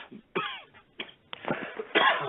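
Several harsh, raspy coughs in a row, close and fairly loud, with brief pauses between them.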